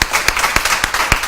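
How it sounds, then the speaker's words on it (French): Audience applause for a contestant brought on stage at a French reading competition, a handful of sharp separate claps at an irregular rhythm, loud and close, with no voices. "sous vos applaudissements"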